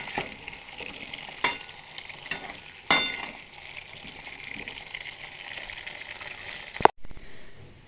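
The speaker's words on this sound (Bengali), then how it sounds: "আলুটা ভালো করে লেচি করে ভেজে নেবো।" Potatoes fry in a pan for a chicken biryani with a steady, soft sizzle, broken by a few sharp stirring clacks and a louder scrape near the end.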